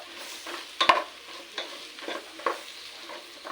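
Bitter gourd is stir-fried over a medium flame, a soft sizzle broken by several sharp scraping strokes of a spatula against the pan at an irregular rhythm, close by and alone.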